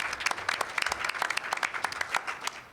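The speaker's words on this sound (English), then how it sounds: "you can give them a round of applause" An audience at a Latino community energy forum breaks into lively applause. Many hands clap in a fast, dense patter that stays fairly loud and close throughout the short burst, with no speech over it.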